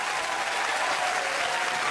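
An audience gives Raymond Devos a dense, even round of applause, a continuous wash of many hands clapping at steady loudness with no voices over it.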